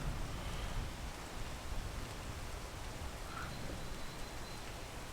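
Rain pours in the mountain-climbing game PEAK as a broad, even wash of noise that runs unbroken throughout, with no speech.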